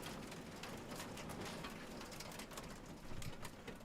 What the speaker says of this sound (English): I think the rain is kind of... Yeah, it's there.